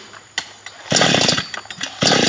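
A chainsaw cutting firewood sputters and catches in loud uneven bursts, revving hard, dropping off and surging again nearby.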